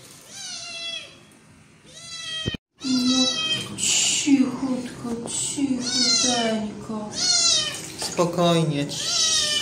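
A cat meows and yowls repeatedly and loudly, close by, while being washed with Japanese shampoo, with a person speaking soothingly to it between and over the cries.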